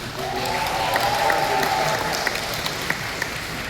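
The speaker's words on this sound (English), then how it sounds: "give it an applause for him actually" An audience at a live phone launch event in Singapore applauds a presenter with a steady, dense clapping that fills the room for several seconds, with a faint voice over it.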